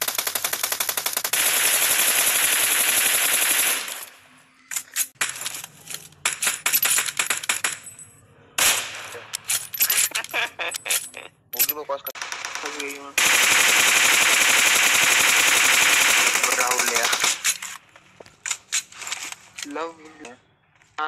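Rapid bursts of automatic gunfire in the PUBG Mobile battle royale game, loud and dense with crackling shots in long volleys and short gaps, and voices talking underneath in places.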